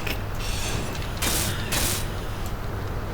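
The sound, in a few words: grinder grinding down a ship block in Space Engineers video game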